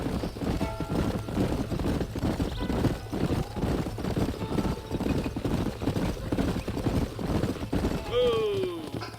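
Several horses clip-clop steadily in the video game Red Dead Redemption, their hooves striking in a close, rhythmic run, with a whinny near the end and a voice heard faintly underneath.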